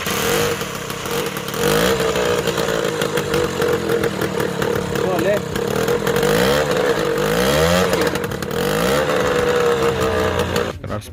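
A TVS Super XL moped engine with a cracked silencer starts and runs, a loud, close, raspy buzzing putter with uneven revving throughout, after repairs in a village bike mechanic's workshop.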